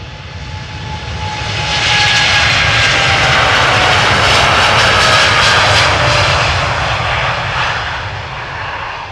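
TUI Boeing 787 Dreamliner at Amsterdam Schiphol airport, its engines swelling to a loud broad roar as it passes nearby, then slowly fading.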